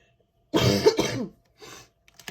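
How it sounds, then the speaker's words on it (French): A single rough, heavy cough with a throaty burst, followed after a pause by a softer, shorter cough. "On a toujours cette grosse toux qui m'énerve"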